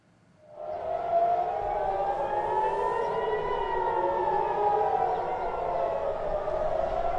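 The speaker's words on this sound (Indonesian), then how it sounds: "Saat sirine meraung di Tel Aviv" An air raid siren in Tel Aviv starts and then wails continuously, its tone slowly rising and falling, loud and sustained with no voices.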